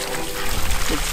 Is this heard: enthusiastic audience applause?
no